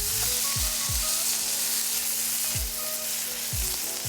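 Chopped tomatoes sizzle and fry steadily in a hot wok after a splash of water goes in, with a spatula scraping and stirring against the metal several times over the continuous hiss.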